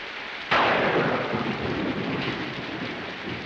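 A sudden crack of thunder opens into a long rolling rumble over steady heavy rain pattering on surfaces, close and loud, with no voices.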